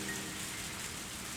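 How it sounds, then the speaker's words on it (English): A rain sound effect in the visual novel ONE: Kagayaku Kisetsu e plays as a steady, dense hiss of rainfall, even and unbroken, with no voices. "the rain shows no sign of weakening into a shower"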